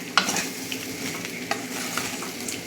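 Grated raw banana for puttu being sautéed in a pan, a soft, close sizzle with occasional light scrapes of the stirring spoon.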